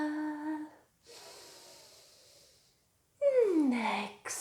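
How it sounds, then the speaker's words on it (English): Deep inhale during a yoga stretch: a steady, drawn-out breath lasting about a second and a half, framed by short voiced tones before and after. "We inhale."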